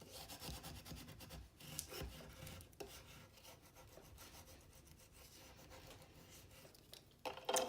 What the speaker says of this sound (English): Now we're going to take our transferred paper